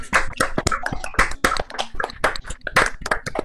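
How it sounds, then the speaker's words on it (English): Attendees of an online Wikipedia 20th birthday party give a round of applause, heard as close, sharp, separate claps in an irregular rhythm, nearly free of talk. "That round of applause"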